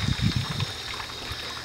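Tap water running into a bottle being filled for a compressed air rocket, a steady close trickle with a low gurgling burst at the start.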